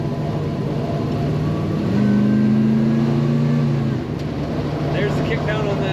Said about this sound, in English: There's the kick down on that automatic